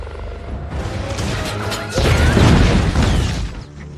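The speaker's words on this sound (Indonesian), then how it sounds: "membuat helikopter itu meledak seketika" A helicopter explodes in a film: a loud crashing boom erupts midway, a heavy rumbling blast that swells and then fades over a couple of seconds.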